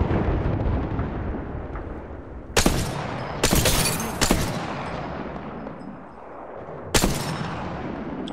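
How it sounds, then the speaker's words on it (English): Video game shootout with gunfire coming from both sides: a steady rumble of distant shots punctuated by several sharp, loud close bangs spaced a second or more apart. "I'm getting shot at from both sides."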